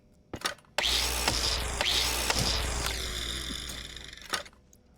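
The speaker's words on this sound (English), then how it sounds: "Grinder again." An angle grinder tool in the Stationeers video game runs in one sustained, loud whirring burst. Its pitch wavers and shifts partway through, and sharp clicks come before it and after it cuts off.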